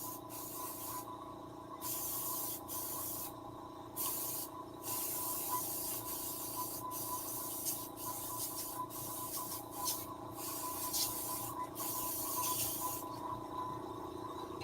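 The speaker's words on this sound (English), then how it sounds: "That's why I like my air compressor, because I can come back on top of these and add" An airbrush fed by an air compressor sprays paint in short hissing bursts, on and off several times, over a steady low compressor hum running underneath.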